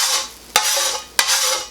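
Metal spatulas clank twice against a Blackstone griddle while eggs sizzle steadily underneath, two sharp scrapes about half a second apart over a continuous loud frying hiss.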